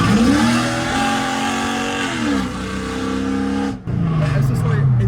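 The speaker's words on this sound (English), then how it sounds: "So there we have it, the crazy new exhaust on my LS400." A Lexus LS400 with a straight-piped exhaust revs and pulls away, its loud, raw engine note rising and falling through gear changes with a brief dip before climbing again.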